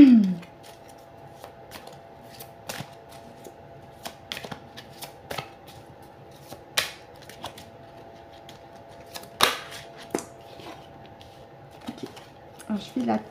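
Tarot cards shuffled by hand, with scattered riffles and soft slaps in an irregular rhythm close by, and a voice briefly at the start and end.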